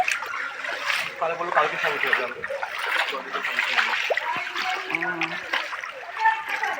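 Water floods across a rooftop with a continuous trickling and splashing wash, while people talk over it close by.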